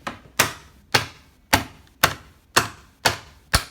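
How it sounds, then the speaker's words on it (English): Plastic film lid on a chilled curry ready meal being pierced, eight sharp, close pokes in an even rhythm roughly every half second, each a crisp snap with a short tail, no talking. "we do pierce the old lid"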